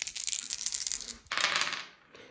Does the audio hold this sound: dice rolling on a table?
yes